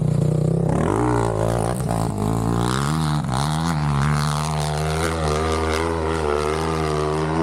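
A motorbike engine labours up a quarry slope, a loud, close, continuous drone whose pitch wavers and climbs as the rider throttles, with no talking over it.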